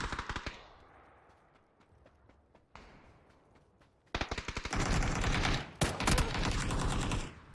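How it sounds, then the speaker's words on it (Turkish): Gunfire rings out in a video game zombie mode from a weapon stuck on single-fire: a few isolated shots at first, then a dense, rapid run of loud cracks that keeps going to the end. "Ya arkadaş ya, silah teklide kalmış."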